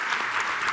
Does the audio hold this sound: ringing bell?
no